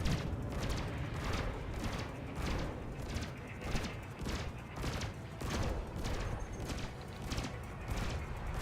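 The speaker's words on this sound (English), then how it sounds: "This Eagle has turreted beam lasers or pulse lasers, and he's about to jump away." Turreted beam or pulse lasers on an Eagle fighter blaze away in Elite Dangerous space combat, a dense, steady barrage of rapid rhythmic zaps and crackles running loud throughout.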